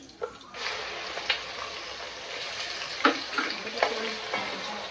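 Onion paste sizzles in hot oil with green chillies for a pomfret curry, a steady soft hiss with occasional spatters and stirring clinks, fairly faint.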